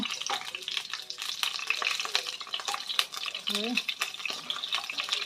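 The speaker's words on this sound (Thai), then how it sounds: "ใส่กุ้งลงไปโลดนะคะ" Shrimp frying in oil in a pan for fried rice, a busy close sizzle with frequent clatter and scraping of a stirring utensil, while a voice talks partway through.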